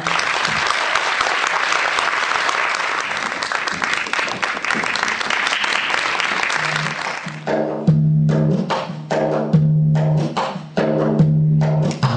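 Audience applause at a poetry-with-folk-songs evening in Ardeşen, dense steady clapping filling the hall for about seven seconds, then thinning into scattered claps as music with a low instrumental drone begins underneath.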